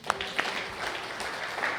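Church congregation clapping during a Sunday service, a scattered, light round of applause with a few sharper claps standing out, fairly faint and brief, with some voices mixed in.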